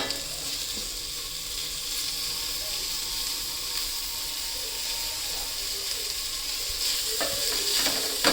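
Chopped tomatoes frying in a pan for chicken dum biryani, a steady bright sizzle that stays even throughout, with a few clinks of a utensil near the end and no talk.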